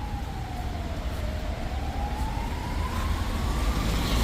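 An ambulance siren in city traffic wails as a single rising and falling tone, steady and moderately loud over a constant rumble of road noise, with no talking.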